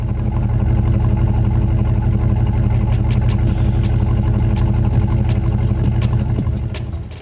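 A Jeep Grand Cherokee's 5.9-litre V8 rumbles loudly and steadily at a close, deep, throaty idle with a faint ticking clatter on top, and no voices are heard.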